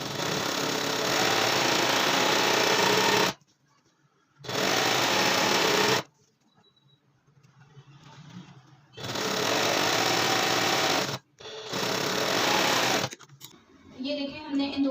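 A sewing machine runs in long, steady loud bursts while stitching a side seam on pant-style trouser fabric, stopping and restarting a few times with quiet gaps where a voice speaks.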